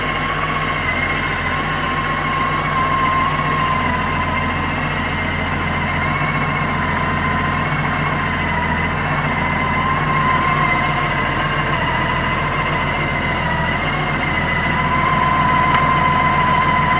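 A trike's engine running steadily just after starting, a constant low idle hum with a faint whine on top, moderately loud and close, with no one talking.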